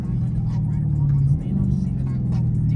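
A Dodge Charger Scat Pack's 345 Hemi V8 drones steadily from inside the car, a deep rumble that briefly rises and settles, with people talking over it.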